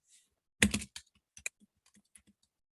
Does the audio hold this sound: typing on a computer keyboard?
yes